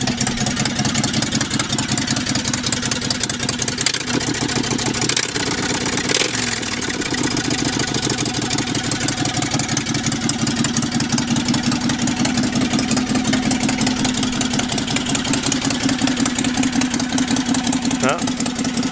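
Board track racer style motorcycle engine chugging at idle, steady and loud throughout with a brief rev partway, close by.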